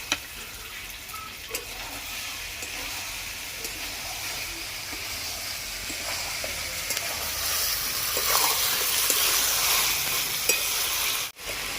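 Country chicken sautés under a lid in a pan, giving a steady, even sizzle and hiss with occasional faint stirring clicks, close and continuous throughout.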